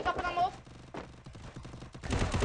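Gunfire in a shooter video game: quick bursts of automatic shots cut through one another at close range, with a voice talking briefly at the start.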